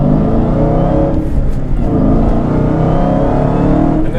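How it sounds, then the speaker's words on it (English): A Dodge Hellcat's supercharged V8 roars steadily while accelerating, with deep exhaust rumble and a whining intake, loud and close, sustained throughout. "the pure sound coming out of that Hellcat. You have both induction noise and exhaust noise"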